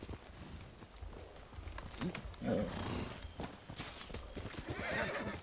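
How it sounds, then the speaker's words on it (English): A horse gallops in the samurai video game Ghost of Tsushima, with steady hoofbeats and whinnies under constant wind and game ambience while a person talks over it. "My horse's name is Nobu, and that means trust in Japanese."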